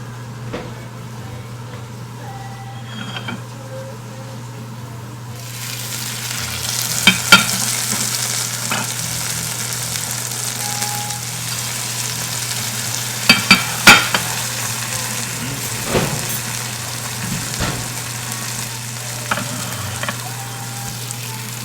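Food sizzles steadily in a pan of melted butter, topped with blue cheese crumbles, a dense crackling fry with a few louder pops and spits throughout, close up and with no talk.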